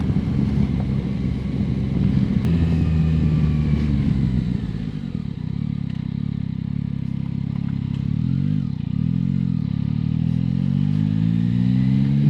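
A 2025 Yamaha Tracer 9 GT motorcycle ridden in third gear, its engine droning loud and steady with rising and falling revs, under rushing wind noise throughout.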